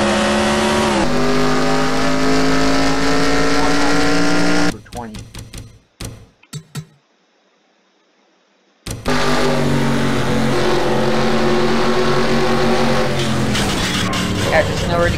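Onboard race car engine in a sim racing game after a wreck with flipping cars, loud steady engine drone that cuts out for a few seconds of near silence with brief clatters, then roars back and holds.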